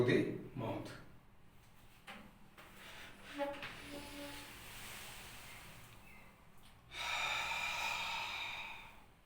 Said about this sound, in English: taking a deep breath through the nostril.